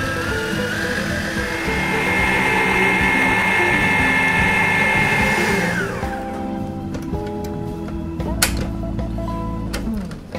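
A Waring commercial mixer whips cream cheese, butter and sugar at higher speed, a loud steady motor whine that drops in pitch after several seconds and continues rougher, with a few clanks near the end and no voices.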